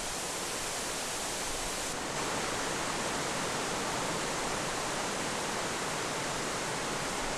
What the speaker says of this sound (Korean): 잘록한 허리를 지나 넓게 퍼지는 치마폭처럼 폭포의 물줄기가 곱기도 하다.